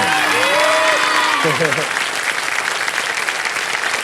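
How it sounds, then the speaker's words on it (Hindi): A television game-show studio audience applauds loudly and steadily, the sustained clapping beginning under a voice and continuing on its own. "एक बार आशा जी के लिए जोरदार तालियां बजाएं।"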